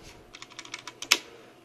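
Keystrokes on a Performax G Xargon mechanical keyboard with Outemu Red switches, a short run of light, evenly spaced clicks ending in a sharper clack, close and alone with no talking.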